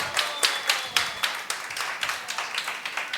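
Audience clapping for the storyteller Alejo, a small group's uneven sharp claps in quick succession, close and moderately loud, with no voices over them.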